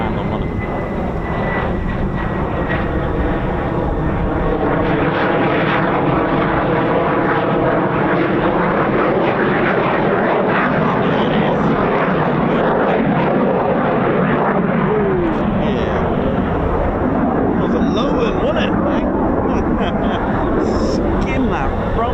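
A Lockheed F-35 Lightning stealth fighter of 617 Dambusters, 207 Squadron or the 493rd Fighter Squadron comes in to land, its engine producing a loud, sustained roar that shifts in pitch as it passes, while people talk throughout.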